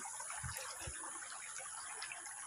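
Clear river water in Samarinda flows and rushes steadily, a continuous bright hiss of moving water heard close, with a couple of low thumps early on.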